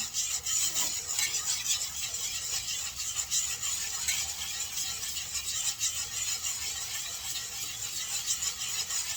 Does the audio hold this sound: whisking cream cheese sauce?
yes